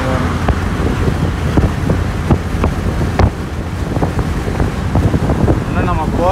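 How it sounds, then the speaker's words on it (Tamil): Steady, loud wind roaring across the microphone on a rocky mountain road near Dubai, with continuous broadband rumble and gusts and a faint vehicle or engine hum underneath. "காற்று நல்லா ஆனால் ஜில்லுன்னு அடிக்குது."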